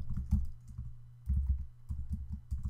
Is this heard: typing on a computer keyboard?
yes